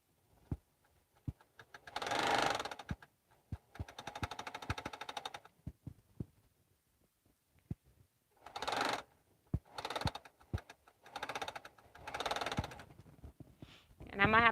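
Noisy sewing machine quilting large pieces: bursts of rapid mechanical clattering start and stop in several runs, with sharp knocks between them and quiet gaps, no voices.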